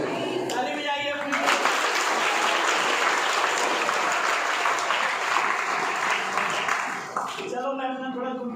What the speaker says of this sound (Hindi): ताली बजाइए अपनी।